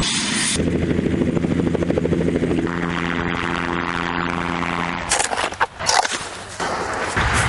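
A loud helicopter thrums nearby with a pulsing rotor beat and droning engine, then the sound breaks into rustling and thumps near the end.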